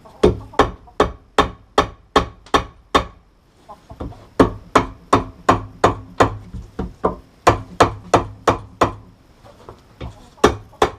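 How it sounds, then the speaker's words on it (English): Heavy hammer blows strike a seized steering bracket (tilt tube) on an outboard motor, landing in two long runs of steady, evenly spaced sharp metallic impacts, loud and close, separated by a brief pause. "I think we'll just keep trying to hammer in multiple directions"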